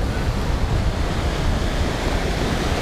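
Ocean surf breaking on a beach makes a steady, loud broadband roar, mixed with heavy wind rush, with no voices present.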